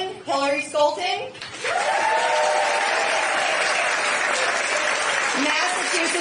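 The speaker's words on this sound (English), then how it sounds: "So let's give them a warm clap and welcome a celebration." Audience applause at an education association event in Grand Rapids, Michigan: after a brief spoken introduction, sustained loud clapping from a large crowd fills the room for several seconds before easing slightly at the end.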